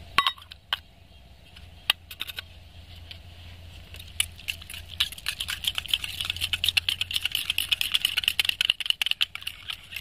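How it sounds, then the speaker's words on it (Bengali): Sour yogurt (curd), drained of its water, is whisked by hand in a bowl, giving quick, dense, continuous clicking and scraping strokes that grow busier and louder toward the end, with no talking. "এই টক দইটাকে আমি ভালো করে ফেটিয়ে নেব।"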